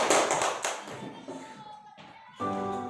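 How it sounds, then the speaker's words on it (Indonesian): A brief patter of clapping hands from a small group of students in a classroom, quickly fading, followed by a sustained tonal sound. "Tepuk tangan buat kalian semua."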